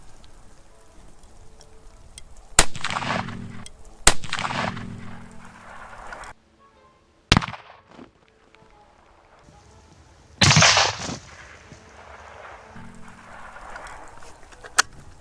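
Rifle shots from a Ruger American Ranch rifle fired at a snowman outdoors crack loudly in several sharp, separate bursts, each trailed by a short rumble, with quiet talk in between.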